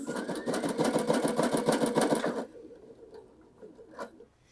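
A sashiko sewing machine starts stitching with a fast, loud, even mechanical chatter for a couple of seconds, then stops and leaves quiet clicks and a brief knock.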